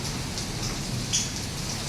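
Steady rain falling outdoors on a rainy day, an even hiss of drops spread across the whole stretch with occasional brighter patters, close and continuous, with no voices.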